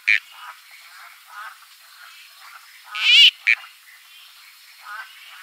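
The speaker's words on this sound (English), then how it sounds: "That's the Barrington Tops tree frog," Barrington Tops tree frog calls in a field recording, a few short, raspy bursts with one louder, longer call near the middle, set against quiet background hiss.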